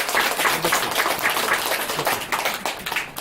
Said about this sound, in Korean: 우선 우리와 같은 박수로 맞아주시기 바랍니다.